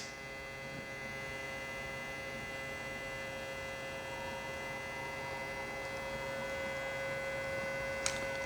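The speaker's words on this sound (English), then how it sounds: "Now you turn the little blower on" A small electric blower on a wood chip smoker pulls air past the chips and pushes smoke through a hose into a box, making a steady, even hum that drones without a break.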